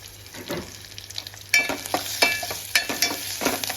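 A quarter teaspoon of turmeric hitting overheated oil and darkening in a pan, a crackling sizzle that grows louder midway, with stirring scrapes and spits over a faint low hum.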